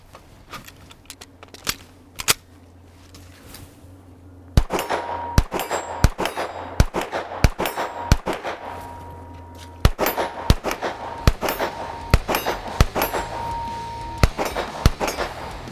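A red dot equipped carry pistol fired on an outdoor range, a few sharp spaced shots at first, then a steady string of loud close cracks with ringing steel-target clangs after many of them.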